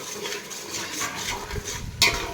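A utensil scrapes and stirs masala frying in oil in a pan for egg biryani, with a steady soft sizzle, a few close scraping strokes and one sharper clink near the end.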